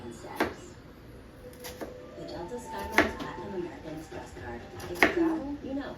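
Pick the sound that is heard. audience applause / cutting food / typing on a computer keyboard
cutting food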